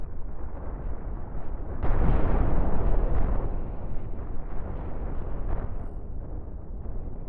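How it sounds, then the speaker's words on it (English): Celebratory fireworks in the space game Cosmoteer sound as a continuous rumbling barrage of explosions. A sharper, louder burst lands near the start, and the booming stays dense and steady after it. "Some celebratory fireworks goes along with it."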